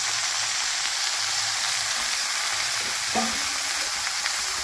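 Onions and fish frying in a pan for a fish curry give off a steady, dense sizzle and hiss at an even level, with a faint stir partway through and no talking.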